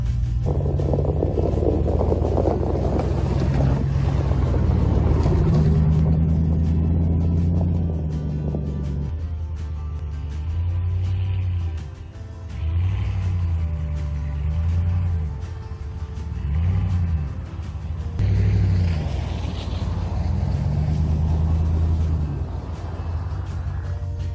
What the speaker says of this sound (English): So we're gonna let the truck warm up